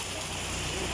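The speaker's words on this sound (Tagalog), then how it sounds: "Lakas pa din ang ulan po" Heavy rain pours steadily on a shop's surroundings, a dense, even hiss filling the whole second at moderate level without any speech on top.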